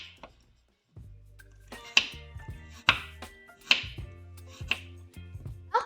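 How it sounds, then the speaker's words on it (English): Onions are chopped with a knife on a cutting board, making about six sharp, close, evenly spaced chops with short pauses between them and no voices. "Now put it all into a pile and chop them to really small pieces."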